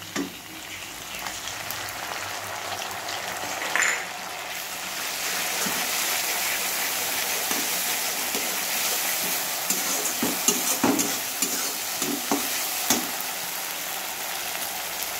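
Ground spice paste frying and sizzling in hot oil in a home kitchen, a steady loud hiss throughout with occasional stirring scrapes and pops, no voices.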